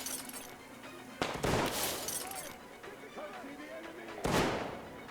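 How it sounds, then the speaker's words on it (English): Gunfire in the video game Metro Exodus cracks out in a few sharp bursts amid rumbling game effects and scattered noise, with a loud shot early and another near the end. "We could have done it without this much gunfire."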